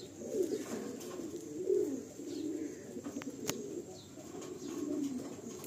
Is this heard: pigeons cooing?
yes